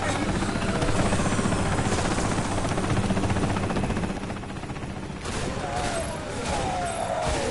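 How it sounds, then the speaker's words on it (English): A helicopter in the video game Bulletstorm drones with a loud, dense rotor roar amid bursts of gunfire, easing slightly partway through before swelling again. "Oh, I hear a helicopter!"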